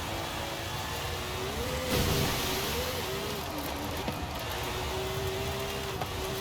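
A Lamborghini set up with shorter gear ratios accelerates, its engine a steady mid-pitched drone heard from inside the car, rising in pitch and easing back. A broad wash of road and wind noise runs underneath, with a brief surge near the two-second mark.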